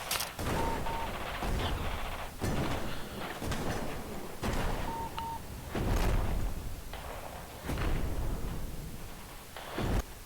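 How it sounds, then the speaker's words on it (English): Artillery firing in the war game Radio General, a series of heavy booming blasts with rumbling tails spaced a second or two apart, fairly distant and layered over continuous battle noise. "Artillery firing at Kilo 4."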